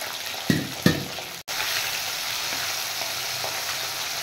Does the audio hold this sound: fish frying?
yes